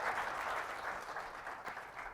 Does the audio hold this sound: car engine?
no